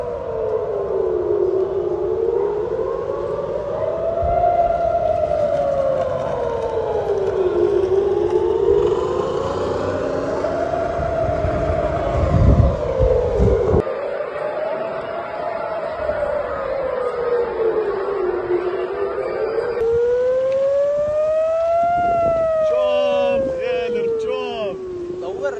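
Air raid sirens wail across Israel during a missile attack, several loud overlapping rising-and-falling tones sweeping steadily for the whole stretch, with crowd noise and people talking underneath.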